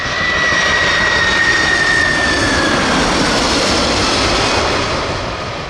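Air Force One jet aircraft engines, a loud, continuous roaring rush with a high whine that slowly drifts down in pitch, steady throughout and fading slightly at the end.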